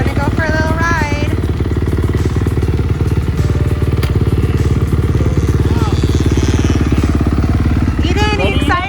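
A dirt bike engine running loud and close in a steady rattling drone that does not let up, with voices talking over it.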